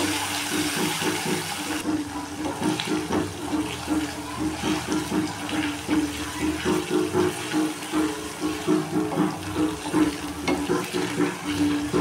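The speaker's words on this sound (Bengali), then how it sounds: "মশলাটা ভালো করে কষে নেব।" Spice paste with ground dried red chillies sautéing in a pan, a steady close sizzle with a rhythmic scraping and stirring texture running throughout, loud and continuous.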